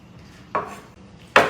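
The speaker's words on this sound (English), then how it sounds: "I'm just rough chopping the garlic." A knife rough-chopping garlic on a cutting board in a home kitchen, two sharp isolated knocks against a faint background hiss, the second louder.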